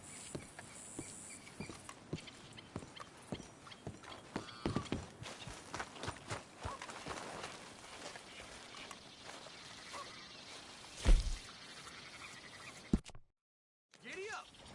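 Horse hooves clip-clop on the ground in a video game, a quiet, brisk rhythmic patter of steps lasting several seconds, with a brief thump near the end before a short silence.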